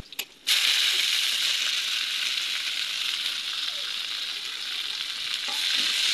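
Dried and green chilies fry in hot oil for a kalmi greens vegetarian dish, giving a loud, steady sizzle with faint stirring scrapes, starting after a short quiet moment.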